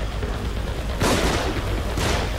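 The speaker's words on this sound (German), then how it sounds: "Achtung, die haben Dynamit. Was? Gleich macht's Bumm." Two heavy blasts, about a second apart, burst over a constant noisy rumble. Each is loud and broad, dynamite explosions in the video game The Evil Within.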